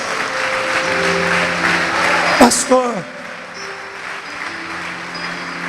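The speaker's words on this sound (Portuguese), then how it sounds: "vamos aplaudir Jesus" A church congregation applauds during an evangelical sermon, a loud rush of clapping that swells through the first half and then fades, while a preacher's voice carries over it and a keyboard sustains chords beneath.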